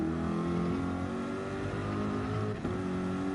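Race cars in a Daytona sim racing game, engines droning and rising in pitch as they accelerate, heard at moderate level as a steady layered whine without talk.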